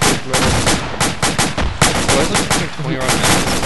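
Loud, close rapid gunfire in the military game ACE 2 with ACRE, with rattling automatic bursts and single shots following one another almost nonstop.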